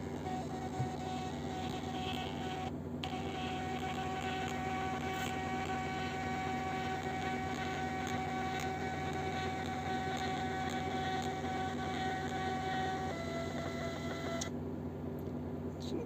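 A truck tachograph printing a printout gives a steady, continuous mechanical whir and buzz with faint tonal hum, close and even, with a few brief shifts in pitch near the end and no talk.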